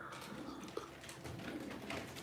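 Tumbler pigeons resting at a live bird auction give soft, low cooing, faint and intermittent against a quiet room background.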